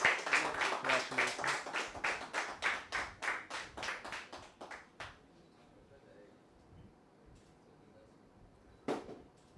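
Clapping at a cricket tournament grand finale stage ceremony, a few people clapping in a quick, fading rhythm for about five seconds, then quiet with one last isolated clap.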